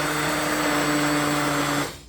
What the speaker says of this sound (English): Now make sure when you're using a blender that you don't get up here like this